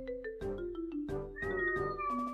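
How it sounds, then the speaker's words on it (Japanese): A cat meows several times close by, with short, tonal, rising and falling cries in quick succession and a steady low hum underneath. "猫鳴いてる。"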